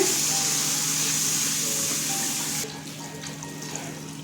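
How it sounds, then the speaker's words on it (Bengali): Water pours in a steady close splashing stream into a pan of fried spice paste for a potato and pointed gourd curry, then cuts off and leaves a quieter trickle. "জল দিয়ে দিচ্ছি"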